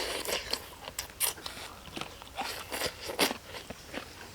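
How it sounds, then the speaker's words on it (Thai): A fish head is crunched and chewed up close, with sharp, irregular bites and cracks of bone about every half second, between softer wet chewing. "พี่อนกินหัวปลา"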